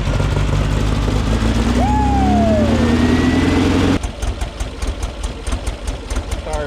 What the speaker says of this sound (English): The car's actually idling.